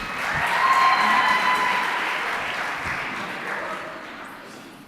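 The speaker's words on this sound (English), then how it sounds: "Round of applause for her" Audience at a school gender-based violence prevention dialogue giving a round of applause, clapping swelling early and then slowly fading, with scattered cheers from the crowd.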